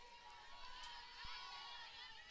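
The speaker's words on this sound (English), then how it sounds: "They're rallying behind her, cheering for her right now" Softball dugout players cheering for a batter at a college game, a faint, distant blend of high voices and chatter that holds steady throughout.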